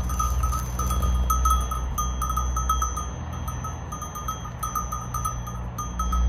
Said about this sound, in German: die Ziegen, die sind auch da. Hallo, schöner Sound immer mit ihren Glöckchen.